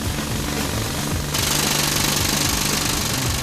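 A rock drilling machine bores into rock in a shaft, a loud continuous rapid hammering roar that keeps up without a break, close and harsh.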